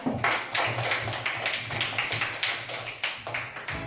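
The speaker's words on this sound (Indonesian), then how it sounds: "yuk coba kasih tepuk tangan buat kelompok 2" Classroom applause for a student group after a presentation, a steady crowd of hands clapping continuously for about four seconds, fairly close and full, with no talking over it.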